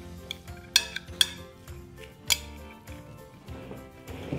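Gyoza filling with white pepper and sesame being mixed in a bowl, heard as soft stirring with several sharp clinks of a utensil against the bowl, close and fairly quiet, with no voices.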